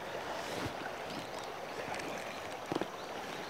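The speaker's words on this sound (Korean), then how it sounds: "물소리랑 좋지요." Steady broadband rush of a stream flowing beside a freshwater fishing spot where mandarin fish (kkeokji) are caught, continuous and fairly near with a few faint clicks and knocks on top, no talking.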